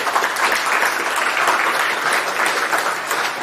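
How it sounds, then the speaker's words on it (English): Steady, dense applause from an audience at an academic welcome and introduction session, continuous and fairly loud throughout with no pause. "Quick round of applause."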